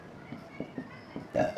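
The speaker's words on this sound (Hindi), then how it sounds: "पानी पिया था उसकी डकार आ गई हमको" A man burps after drinking water during a biology lecture: a few short, low gulping bursts, then one louder, rougher belch near the end, close and alone, with no talk.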